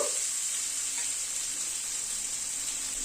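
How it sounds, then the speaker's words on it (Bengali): Vegetables seasoned with salt and turmeric sauté in a hot pan, giving a steady, close sizzle and fry hiss throughout with no pause and no talk. "অল্প একটু হলুদ দিয়ে দিলাম। সবজিটাকে একটুখানি কষিয়ে নেব,"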